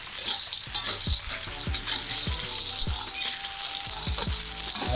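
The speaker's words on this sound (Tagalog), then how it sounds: "So ngayon, hinahalo lang natin ito." Ginger, garlic and onion frying in a pan, stirred continuously, with steady loud sizzling and regular scraping strokes roughly every half second.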